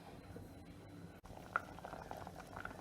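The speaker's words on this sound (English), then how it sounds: "So this has been boiling for about 3 to 4 minutes." Jackfruit seeds simmer in a pot of boiling water, giving a faint, steady bubbling hiss with a couple of small pops, no voices.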